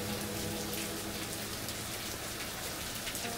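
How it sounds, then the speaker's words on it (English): Heavy rain pours steadily outside, a dense, continuous hiss of drops hitting surfaces that fills the whole stretch without a break, with no voices over it. "Let me show you a clip of how crazy it's raining outside."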